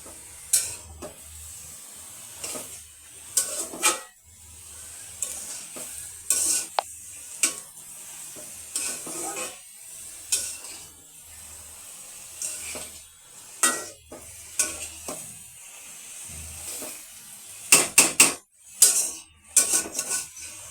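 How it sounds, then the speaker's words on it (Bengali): Leafy greens wilting in a pan are stirred with a utensil, giving a series of sharp scraping and clinking strikes against the metal over a low, steady sizzle, close and fairly loud. "এই যে একটু কমে আসছে শাকটা, এখন একটু নেড়ে চেড়ে দিই"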